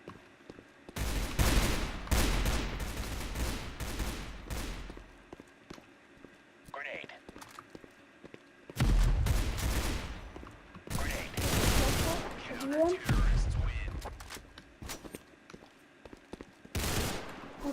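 Gunfire in the Roblox game Counter Blox comes in rapid bursts of shots, each lasting a second or two and separated by quiet gaps, with faint footsteps and soft talk in between.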